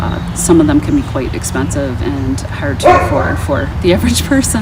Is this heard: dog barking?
yes